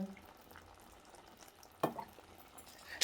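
Curry being stirred in a pan after yogurt and coconut oil go in, a soft low sizzle with a sharp scrape of the spoon near the middle and a clack at the end.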